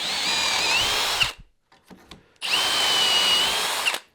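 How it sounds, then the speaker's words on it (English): A power drill whines steadily into wood twice, boring dowel holes for a bookcase, each burst over a second long, separated by a short pause with light handling clatter. "I've changed the drill bit here"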